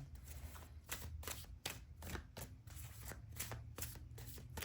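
Tarot cards are riffled and shuffled repeatedly in a quick, crisp rhythm of papery bursts. The sound is close but soft, with no speech.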